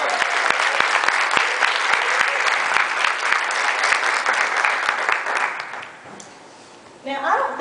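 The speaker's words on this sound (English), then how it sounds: "give her a big round of applause" Audience applause at a storytelling concert, loud and steady dense clapping for about six seconds before fading out, followed by a brief voice near the end.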